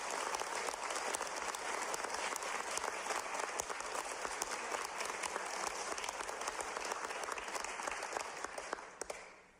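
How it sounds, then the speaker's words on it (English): Sustained applause from an audience at a gun reform bill signing by the Washington governor, steady and dense throughout before cutting off at the end. "how about a round of applause for former Representative Gabby Giffords"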